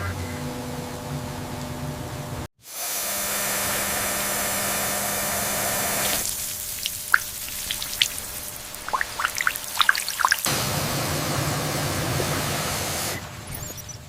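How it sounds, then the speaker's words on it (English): Water spray rinsing a toy LEGO truck, a steady hissing spray in two long stretches with a brief break and scattered dripping sounds between them. "Gentle rinse."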